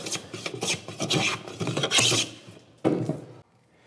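A hand plane takes a few shavings off the edge of a wooden workbench board, several close, rasping strokes in quick succession, the last one separate after a short gap, with no talk.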